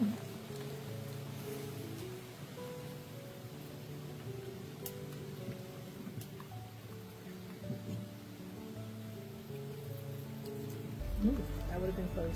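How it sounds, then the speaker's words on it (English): Light rain patters softly outside a trail shelter, a faint, steady drizzle with scattered drip ticks beneath low murmuring voices. "a light rain started to fall."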